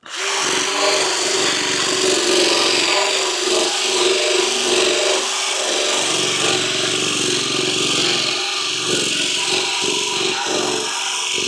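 Wood is sanded by hand for a playground build, a steady abrasive rubbing that scrapes back and forth continuously and fairly close, with no talking.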